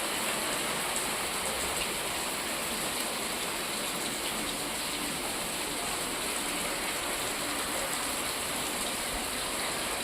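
Steady rain falls in an even hiss that holds from start to finish, with no voices and no breaks.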